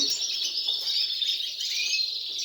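Canaries, including recessive albino birds, chirp and trill steadily at close range in a continuous high, bright song with no voices.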